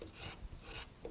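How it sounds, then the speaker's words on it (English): Sandpaper rasps against turning wood on a lathe during offset turning, two rough rubbing strokes in a row, close and fairly loud. "And actually the sanding goes pretty fast."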